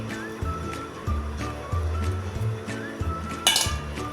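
A spoon clinks and scrapes against a bowl as it is pulled out of jaggery dashmi dough, giving several close, sharp metallic taps with brief pauses, then a louder clatter near the end.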